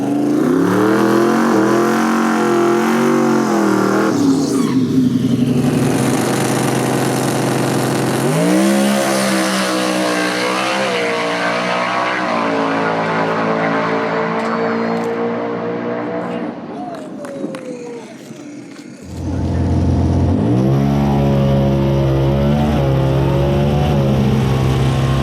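A 2000-horsepower street Mustang drag car with a Coyote V8, twin 76mm turbos and over 40 psi of boost revs loudly and close. The engine drone climbs and falls in pitch, dips briefly near the end, then roars back to a steady rumble.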